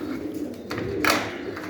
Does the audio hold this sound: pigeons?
yes